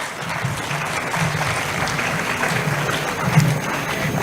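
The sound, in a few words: applause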